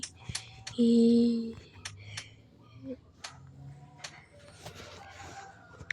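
A black chicken crows loudly once near the start, followed by scattered clucks and clicks amid other nearby farmyard noises.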